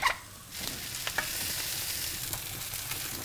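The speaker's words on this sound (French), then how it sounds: "je vais poêler les saucisses dans un peu de beurre" Sausages fry in butter in a pan, a close, steady sizzle that swells after a brief stirring clatter at the start and keeps crackling evenly, with no talk.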